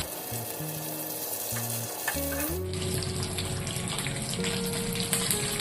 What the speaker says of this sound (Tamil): மீன் இப்போ நல்லா பொரிஞ்சிருச்சு